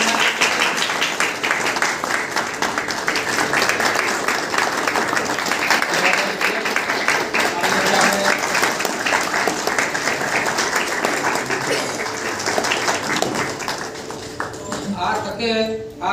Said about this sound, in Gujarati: ખૂબ ખૂબ તાળીઓથી આ ચિત્રકારોને પણ